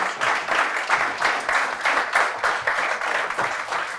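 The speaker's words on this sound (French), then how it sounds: "vous pouvez les applaudir" Audience applause at a round-table conference on European AI, a dense steady clapping from a roomful of people lasting several seconds, with pulsing swells and no speech over it.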